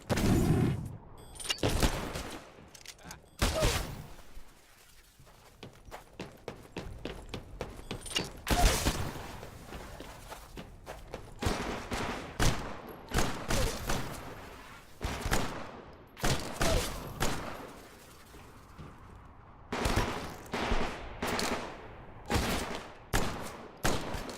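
Gunfire rattles through a live-fire training exercise in the video game Titanfall: rapid automatic bursts and single heavy shots crack repeatedly, close and loud, with brief pauses between volleys.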